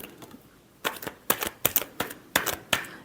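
Tarot cards are shuffled in crisp riffling bursts, about eight sharp flicks in an uneven rhythm, close and clear, with no talk.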